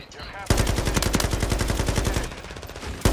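Rapid automatic gunfire from Call of Duty: Modern Warfare 3, a loud sustained burst of closely spaced shots that starts abruptly after a short pause, runs for about two and a half seconds, then breaks off before a final shot at the end.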